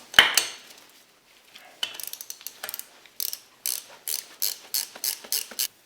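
A ratchet wrench loosens a transmission pan bolt on a scrapyard GMC Sierra/Silverado 4L60E, giving sharp metallic clicking in short bursts. The clicks start sparse, then become regular repeated strokes, close and distinct.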